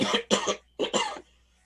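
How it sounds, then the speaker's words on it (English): A person coughs four times in two quick pairs, each a harsh, close burst, followed by a moment of quiet. "I'm coughing a lot in between"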